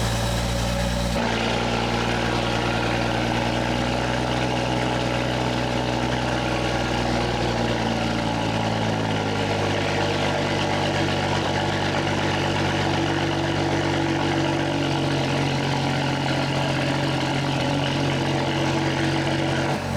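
A BMW F30 335i idles with a loud aftermarket exhaust, a deep, steady rumble that holds throughout with a slight shift in tone partway, heard up close with no talking.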